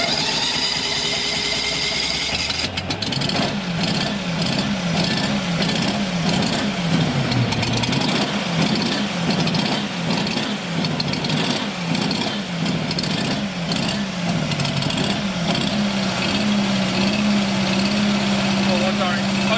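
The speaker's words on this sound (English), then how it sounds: "we'll connect our winterizing hose, we'll start the unit" A carpet cleaning unit's engine cranks and starts a few seconds in, then settles into a loud, steady idle with a pulsing throb that runs to the end; a voice talks over it.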